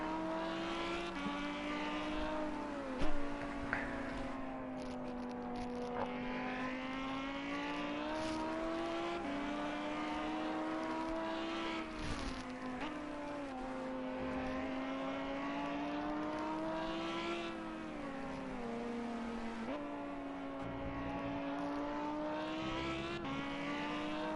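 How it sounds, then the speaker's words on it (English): GT race cars lap the Brands Hatch GP circuit in foggy conditions, a continuous high engine drone with rising and falling pitch as a train of cars passes, heard from trackside at a steady level. "the car we're looking at here has got a train of cars behind him"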